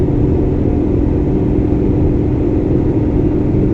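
Steady, loud cabin rumble from a 1991 Nissan Sentra B12 driving on the highway, constant engine drone and road noise with no talking.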